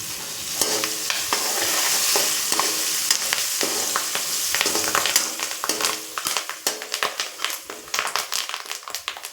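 Curry leaves drop into hot oil for a tamarind thokku, giving a bright, continuous sizzle close up, with sharp taps and scrapes of a spoon stirring the pan toward the end.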